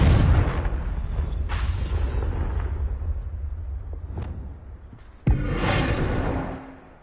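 Confringo explosion spell from the video game Hogwarts Legacy: a heavy, booming blast with a deep rumbling tail, then a second sharp burst that rumbles and fades out.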